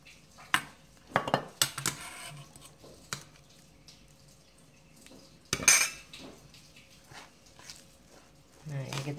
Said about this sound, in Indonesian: Nah, ini kita aduk biar rata ya teman-teman ya